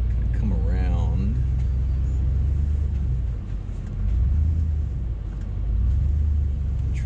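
A truck engine rumbling at low speed while maneuvering on a short four-wheel drive road at a campsite, a steady deep drone that dips briefly midway, with a voice speaking near the start.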